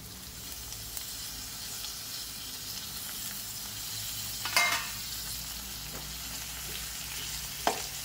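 Chopped kantola (spiny gourd) goes into browned onions frying in a pan, giving a constant sizzling crackle with a brief louder hiss burst midway and a sharp clink near the end.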